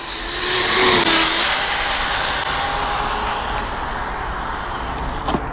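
An ARRMA Limitless 2023 RC car's electric motor at about half throttle on a salty road, a rising high whine that peaks early then holds as a steady broadband whir, close and loud, with a brief sharp click near the end.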